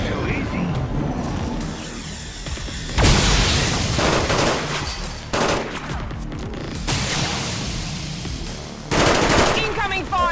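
Dense automatic gunfire from the XCOM 2 (Long War of the Chosen) game, sustained bursts with loud heavier blasts, mixed with voices and game sound throughout.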